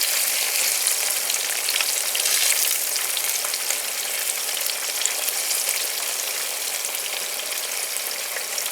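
Breaded eggplant slices fry in oil in a pan, a dense, even hiss and crackle of sizzling that holds steady throughout, close and loud with no voices.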